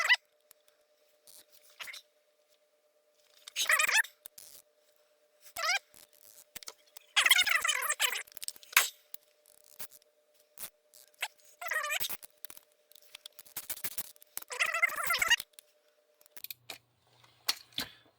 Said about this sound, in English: Adjustments are very tactile and clicky, and you can hear them, so that's cool.